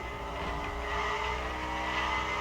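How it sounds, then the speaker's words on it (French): A car in The Crew Motorfest racing game slides with a sustained tire squeal over a continuous engine drone, moderately loud and unbroken, with no voices. "Dérapage à gauche, à droite."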